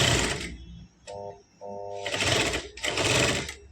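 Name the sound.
sewing machine stitching the bottom seam of a girl's palazzo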